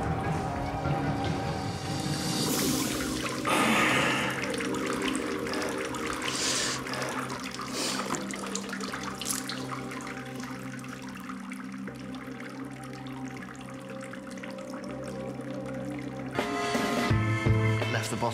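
Water spills from a bottle onto a man's skin, giving a continuous wash of splashing and trickling that stays fairly loud throughout and swells again near the end.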